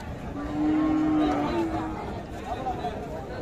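Cows mooing at the Ambari cattle market, where Sahiwal and Sindhi dairy cows are sold with calves; one long, low moo rises out of crowd chatter, with people talking in the background throughout.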